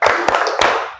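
A group of people, likely students, claps in a quick patterned rhythm, with three sharp, close, loud bursts in about a second, the clapping ringing over a continuous murmur of voices.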